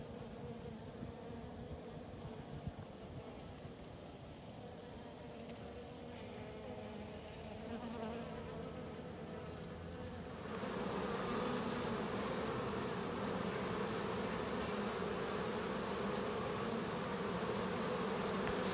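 Honeybees buzz steadily around a beehive late in the season. The drone sounds close and continuous, then swells noticeably louder partway through as more bees join in, with no talking.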